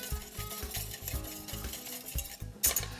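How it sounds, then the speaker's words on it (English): A utensil stirs an egg mixture into cream for crème brûlée, clinking against the bowl in quick, regular strokes, close and fairly quiet, with a brighter clatter near the end. "So now I'm gonna add that mixture right back to my cream. Give that a nice little mix."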